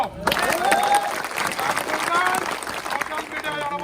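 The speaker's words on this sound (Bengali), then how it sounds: "একটা করতালি দিব আমরা" A crowd applauds at a political rally in Patiya, sustained clapping that swells and holds close by for several seconds, with a voice over a loudspeaker partly heard above it.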